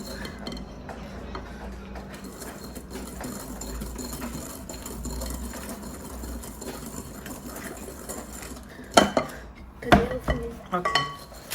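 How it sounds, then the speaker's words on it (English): Muffin batter of sugar and butter being beaten in a bowl, a steady low whir with scraping. Near the end come louder clinks and knocks against the bowl. "So now they are beating their batter."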